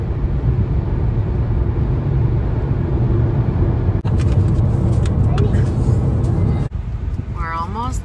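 Car travelling on a road between Canada and the US near St. Stephen, a steady broadband rumble heard from inside, with shifts in tone partway through and voices talking over it.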